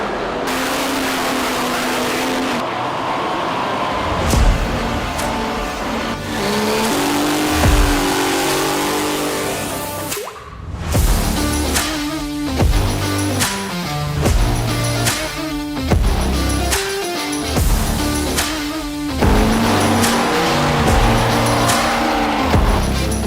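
Trucks roar through drag racing and burnout runs at the NHRDA Truckin in Tulsa event, loud sustained engine revving with repeated throttle surges, tire squeal and crowd-level outdoor din throughout.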